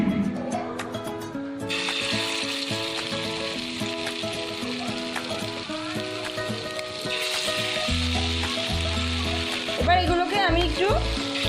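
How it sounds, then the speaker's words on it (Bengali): Banana flower dumplings (mochar muthiya) frying in hot white oil, a steady close sizzle with crackling bursts that swell as more pieces go in, backed by a tonal musical bed throughout. "সাদা তেল গরম করে রেখেছি এবার একটা একটা করে এর মধ্যে দেবো"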